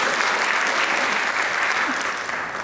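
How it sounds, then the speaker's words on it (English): Audience applause at a Bharatanatyam arangetram dance debut, a dense, continuous round of clapping from a crowd that holds steady and tapers slightly at the end. "Can you get one more round of applause?"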